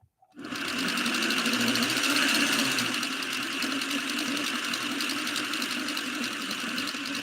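A heavy-duty sewing machine running flat out at full power, a loud continuous whirring motor hum with rattling mechanical buzz, close and steady for several seconds with no speech.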